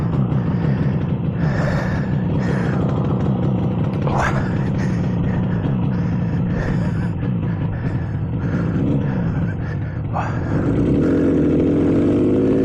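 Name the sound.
1967 Yamaha YR1 motorcycle engine running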